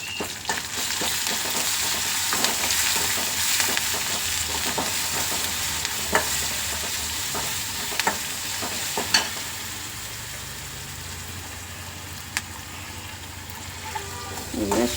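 Cumin seeds and ginger garlic paste fry steadily in hot oil in a pan, giving a continuous close sizzle with occasional sharp scrapes and taps of stirring.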